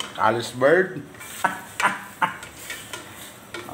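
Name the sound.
stirring and mixing food in a pot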